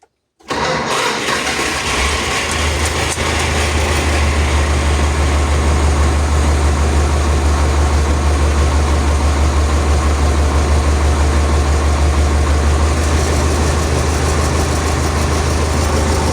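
A YuMZ tractor's D-65 diesel engine cranks and fires inside a hangar, then settles into a loud, steady, rumbling idle that runs on without a break and echoes off the walls.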